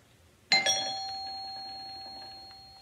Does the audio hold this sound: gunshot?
no